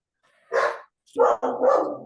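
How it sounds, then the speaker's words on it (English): A dog barks three times close by, one short bark followed by a pause and then two longer, rougher barks in quick succession, with no talking over them. "Don't allow the sound from the dog distract you"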